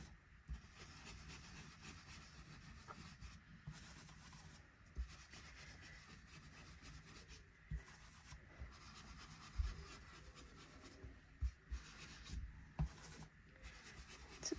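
A blending brush rubs colour onto paper for a simple background, giving soft, continuous scrubbing strokes with brief pauses and a few light taps. The sound is quiet and close, with no speech.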